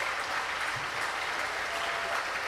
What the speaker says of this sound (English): We applaud Gervais Lorenzi for the amazing,